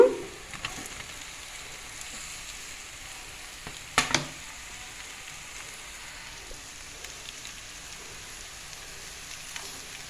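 Boiled, cut eggs sizzle in a frying pan for an egg fry, giving a continuous close crackle with one sharp utensil clatter partway through.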